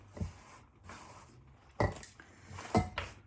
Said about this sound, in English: So, all of my bread is going to go into my bowl.